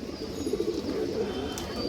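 An Army cock pigeon coos in low, steady, throaty rolls close at hand, the murmur running continuously with no talking over it.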